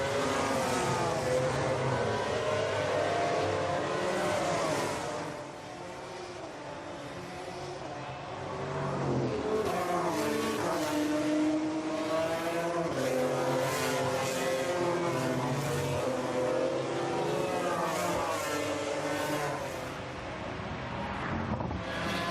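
GP3 race cars lapping behind the safety car at Monza after a lap-one crash, engines rising and falling as cars pass at moderate pace, with wind buffeting the microphone in a steady rushing wash.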